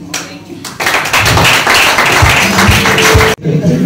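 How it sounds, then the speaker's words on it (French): Live audience at a comedy show clapping and cheering for a sustained stretch, loud and dense, with a short quieter lead-in and an abrupt stop near the end. "Je demande de faire un max d'applaudissements pour les propriétaires de la veste."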